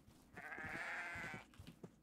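A sheep bleats in a Minecraft-style horror game, one drawn-out bleat rising in the middle with faint game sounds around it, fairly quiet and with no talking.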